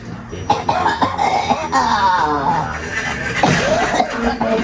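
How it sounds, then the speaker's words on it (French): Someone coughs several times in short bursts at close range, with a brief throat-clearing sound in between. "ça tousse"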